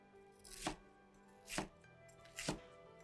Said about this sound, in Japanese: とんかつを切る包丁は専用のものです。